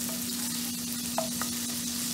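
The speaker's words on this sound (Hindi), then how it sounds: "इसमें भूनेंगे और थोड़ी सी बारीक प्याज काट कर इसे हम भून देंगे।" Grated green chili and finely chopped onion fry in a pan for a soybean chilli dish, giving a steady close sizzle with a low hum beneath and one or two light clicks of a spoon.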